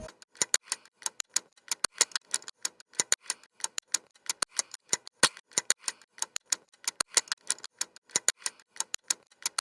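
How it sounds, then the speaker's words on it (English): Crisp hi-hat hits in a steady, busy rhythmic loop, bright and ticking, played alone with no other instruments. "There is another hat loop that I found on Splice, and it sounds like this."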